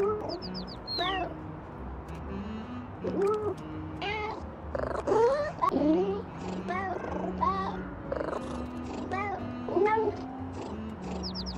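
Several cats meow repeatedly over a soft continuous purr-like hum in the video game Little Kitty, Big City, the cries scattered and fairly close, with a low background drone.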